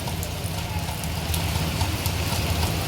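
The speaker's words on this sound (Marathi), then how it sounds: "पावसाची चांगली सुरुवात झालेली आहे" Steady heavy rain falls in Degloor, Nanded district, in a dense, even hiss, with occasional louder drops tapping close by and a low hum underneath.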